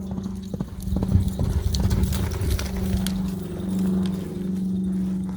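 Horse hooves clip-clop on the ground at a Montana rodeo, a quick steady trotting rhythm close by over a low hum of crowd and arena noise.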